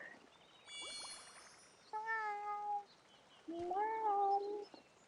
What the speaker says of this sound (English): Give Kitty some milk